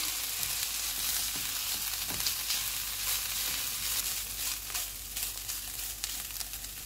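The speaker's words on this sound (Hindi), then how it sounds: "Soya sauce, garlic chilli sauce, hard chilli sauce. इनको 3 मिनट तक भूनेंगे।" Soy sauce, garlic chili sauce and hot chili sauce fry together in a pan for a garlic chicken filling, giving a continuous close sizzle with occasional stirring clinks and scrapes, no voices.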